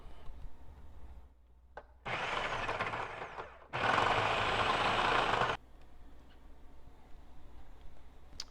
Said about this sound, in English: we're just going to start grinding up some of these strips